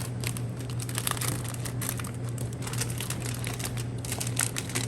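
Heavy-duty aluminium foil crumpled and wrapped over a cheesecake in a restaurant kitchen, a continuous close crackling and crinkling over a steady low hum, no voices.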